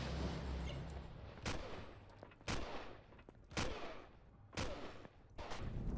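Gunfire in the video game Empyrion Galactic Survival: four sharp, loud shots spaced roughly a second apart, each with a short reverberant tail over a low rumbling background.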